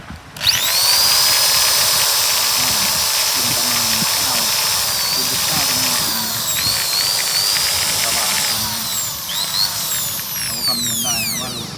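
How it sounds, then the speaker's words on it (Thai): A power drill whirs steadily with a high whine, its pitch rising and shifting through several bursts, with faint voices underneath. "ผมจะเสียบ สว่านนะกากาตัวนึงนะฮะ"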